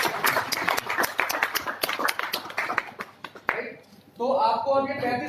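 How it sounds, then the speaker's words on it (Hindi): A room of listeners claps for company CEO Bhandari during a business presentation, a quick run of sharp, scattered hand claps lasting a few seconds before a voice starts talking over the room. "एक बार जोरदार तालियां हमारी कंपनी के सीईओ भंडारी जी के लिए"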